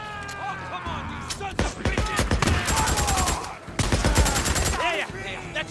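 Gunfire in the video game Days Gone, bursts of rapid automatic shots and single cracks in close, loud clusters, with someone talking partway through.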